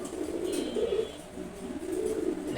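Female pigeons coo in a coop, soft low throaty bursts repeating in a slow rolling rhythm, close by with no talk.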